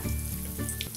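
Green chillies fry in a pan for a masala fry, a close, steady sizzle that holds evenly through a short moment.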